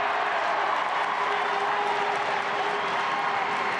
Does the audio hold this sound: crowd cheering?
yes